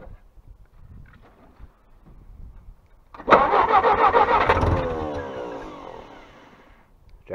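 A 1956 Jeep CJ5 engine cold-starts in extreme winter cold with the choke on: quiet at first, then it cranks and catches with a loud close roar and settles into a rough idle that fades.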